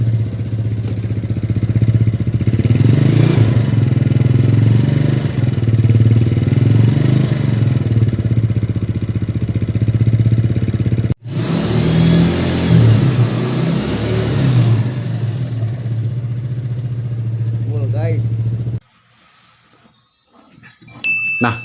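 A Yamaha Mio automatic scooter with a fault that makes white smoke pour from its exhaust is revved repeatedly up close, its engine droning loud and rising in pitch, cutting off briefly midway and dropping to near silence at the end.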